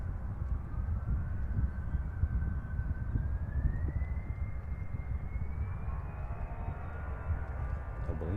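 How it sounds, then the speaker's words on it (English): A jet aircraft takes off on the Polderbaan runway at Amsterdam Schiphol Airport, a steady distant engine roar with a whine that slowly rises in pitch, and nobody speaking. "aircraft take off."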